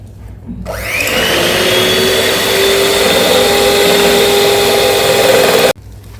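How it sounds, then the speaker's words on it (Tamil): Blender whirring through homemade butterfly pea flower soap batter with fragrance oil, starting abruptly and running loud and steady for about five seconds before cutting off, close up with no talk. "இப்போ அடிச்சிடலாம் திரும்பவும் பிளண்ட் பண்ணிடலாம்"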